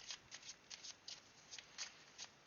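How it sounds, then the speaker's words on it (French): A deck of playing cards being shuffled at a table, quiet repeated riffling bursts in a steady rhythm, close and soft, with no talking. "Il faut quand même que je mélange les cartes."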